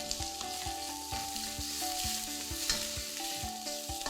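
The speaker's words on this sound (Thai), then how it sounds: "กุ้งที่เราแกะเปลือกไว้ลงไป เนี่ยเวลากุ้งเวลาเขาผัดแล้วโดนน้ำมันเนี่ยค่ะ จะมีกลิ่นหอมมากเลย" Peeled shrimp stir-frying in hot oil, with a strong continuous sizzle and repeated spatula knocks and scrapes against the pan, close and steady, with faint background music tones.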